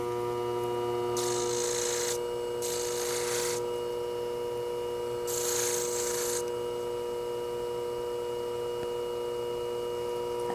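Hair scissors tip rounded on a 1500 grit sharpening stone: three short bursts of hissy grinding strokes, close up, over a constant background hum.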